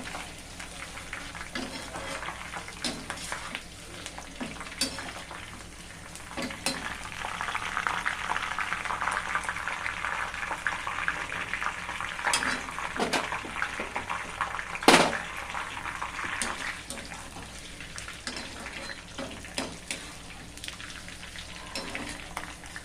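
Cashew pakoda frying in hot oil, a continuous bubbling sizzle that swells and eases over time, punctuated by scattered clinks and one sharp knock midway.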